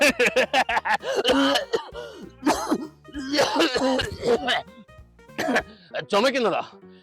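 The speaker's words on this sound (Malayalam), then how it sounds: "ചുമക്കുന്നത്" A man coughs and clears his throat in a rough, repeated burst, mixed with strained vocal sounds, close and fairly loud.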